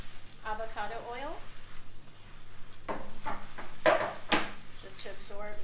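Spring onion pancake frying in leftover avocado oil on a stovetop, a steady close sizzle running throughout with a few kitchen clatters and a speaking voice over it.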